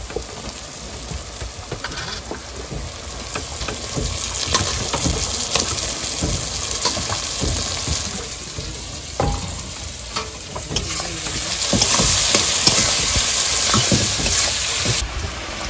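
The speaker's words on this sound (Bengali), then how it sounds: "মশলা কিন্তু কষাই হয়ে গেছে, এবার আলুগুলো ভেজে নেব।" Potatoes frying in spiced oil while being stirred, a loud, steady crackling sizzle with scraping stir strokes throughout, growing louder and hissier near the end.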